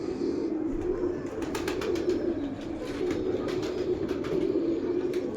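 A breeder pair of pigeons coos softly in a loft, low rolling calls running continuously under light background noise, at close to moderate distance.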